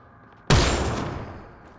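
A single loud gunshot goes off in Mass Effect Andromeda, a sudden blast out of near quiet followed by a long, fading, booming tail.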